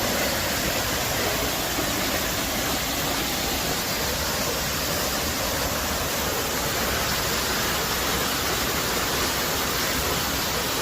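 Eagle Creek waterfall roaring loud and close, a steady broadband rush of falling water filling the whole scene without letup.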